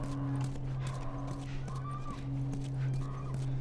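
Horse in the video game The Last of Us, clip-clopping hooves with soft snorting and whinny-like sounds over a steady low ambient hum, fairly close and moderate in level.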